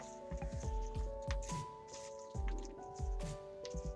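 Washed fox nuts (makhana) drop into milk in a pot while rice kheer cooks, giving a series of soft wet plops and squishes in an uneven rhythm over light background music.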